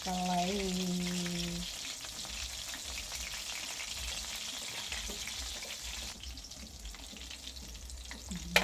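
Fish fillet fries in a pan with a steady, close sizzle and crackle, brief kitchen clatter near the start and a sharper knock at the end.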